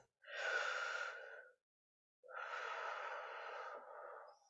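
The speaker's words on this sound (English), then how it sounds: "And then deep breath in and out." Two slow, deep belly breaths during yoga pranayama practice, each a long, soft, airy inhale or exhale, with a short silent gap between them. Close and clear, no talking.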